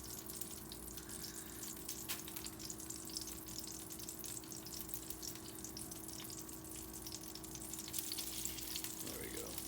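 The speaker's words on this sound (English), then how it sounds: "Now that oil's nice and hot, we're gonna lay our fish. Could actually be hotter. We want to hear it sizzling." Golden tilefish fillets frying in hot oil in a pan, giving a steady close crackling sizzle that runs unbroken throughout with small pops and spatters and a faint steady hum beneath.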